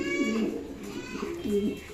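Makra-eyed pigeons from a breeding pair sitting on eggs coo twice in low, rolling phrases, close by and fairly loud.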